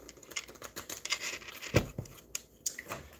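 Tarot cards are shuffled by hand during a personal reading, giving a soft, quick riffling patter with small crinkly taps. It is close and quiet, with no talking.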